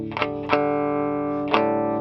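Electric guitar played through a DamonFX Dualgun effects pedal, a few sharp strummed chords ringing out with a thick, overdriven, effect-coloured sustain, close and clean with no voices.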